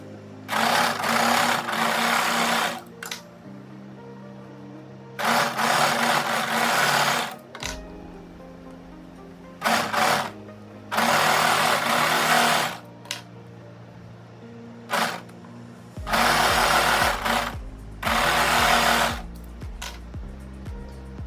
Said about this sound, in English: we're going to overlock all of the seam allowance of the seams that we've just sewn on the front and back piece